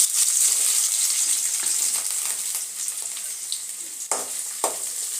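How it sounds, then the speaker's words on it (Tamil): Onions sautéing in oil for a prawn curry, a continuous bright sizzle with a few stirring clatters and a louder scrape near the end, close up and without speech. "வெங்காயம் வதக்கலாம்."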